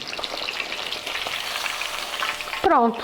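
Breaded beef milanesa sizzles steadily in hot fat, a dense continuous crackle that holds loud and close, ending with a brief sharper burst of frying near the finish.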